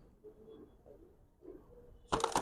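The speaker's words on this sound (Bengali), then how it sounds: "দেখেন দুইটা কবুতর মাশাআল্লাহ" Giribaz pigeons in a loft giving soft, low coos in a few quiet phrases, close but faint, before a sudden loud burst of noise at the end.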